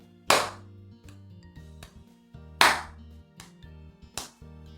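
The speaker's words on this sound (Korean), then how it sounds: "박수로 2번 연주해 볼게요." Hand claps keep a 3/4 beat in a music theory lesson, a strong accented clap followed by two lighter ones, with the pattern played twice, clear and close, with no talk over it.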